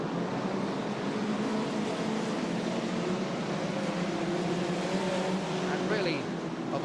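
Saloon stock cars race at Wimbledon in a 1983 Spedeworth 20-lap event, a broad, steady roar of engines heard from a distance, with a commentator's voice running over it throughout.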